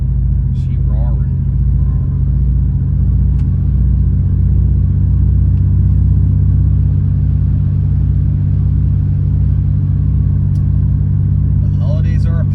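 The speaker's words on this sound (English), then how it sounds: "Hopefully my car isn't too loud." A car engine roars with a heavy, continuous low rumble that stays loud and steady throughout, with a couple of brief faint noises over it.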